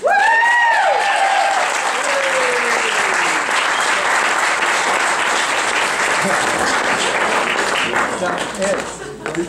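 Sustained audience applause at an amateur comedy show at Arrowcreek, greeting comedian Maureen Tappan; loud, dense clapping throughout with a few voices rising above it early on, tapering slightly at the end.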